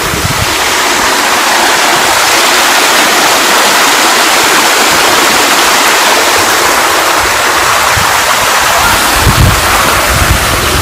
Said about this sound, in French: La cascade est là.